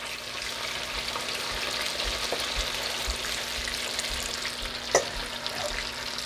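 Oxtail browning in oil in a small skillet, a continuous close sizzle and crackle with a faint steady hum beneath and one brief clatter near the end.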